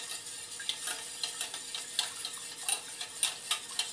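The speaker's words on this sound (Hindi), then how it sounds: "अब इस दही को भी हम अच्छे से फेंट लेंगे" Yogurt being whisked in a bowl for a quick curry, heard as a steady run of light, rapid scraping and tapping strokes close up, with no talking.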